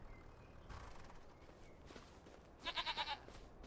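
Goats in the farming video game Farming Simulator 25 let out a short run of about four quick bleats over a faint, steady farmyard background.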